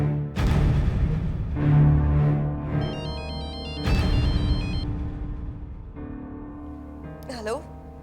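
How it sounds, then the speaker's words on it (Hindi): A phone ringtone plays on and on in a melodic, repeating tonal pattern, loud and close, for a call from an insurance agent during a horror drama scene. "इंश्योरेंस एजेंट का फोन"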